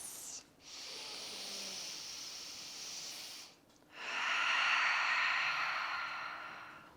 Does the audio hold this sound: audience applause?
no